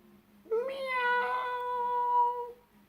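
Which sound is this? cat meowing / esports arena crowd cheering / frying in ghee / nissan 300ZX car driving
cat meowing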